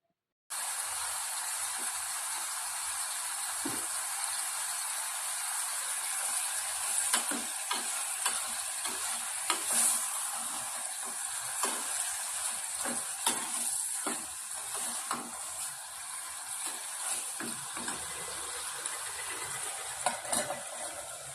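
Tomatoes seasoned with turmeric and salt cook in a pan, giving a steady, close sizzle throughout, broken by repeated scraping and clicking strokes as a utensil stirs them.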